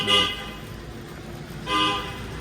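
A dolmuş minibus passing on an Adana street gives two short, bright horn toots in greeting, spaced about a second and a half apart, with steady street noise between them.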